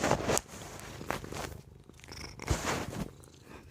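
A cat purrs close up while lying on a lap, a soft rhythmic low rumble broken by a few brief rustles and handling sounds.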